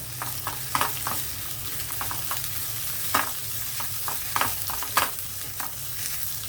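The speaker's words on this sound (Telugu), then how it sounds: "కొంచెం వేగనివ్వాలండి ఇవన్నీ కూడా చక్కగా వేగితేనే టేస్ట్ బాగుంటుంది" Tempering spices frying in oil for a dal with drumsticks, a steady close sizzle with scattered sharp crackles and pops spread across several seconds, no talk.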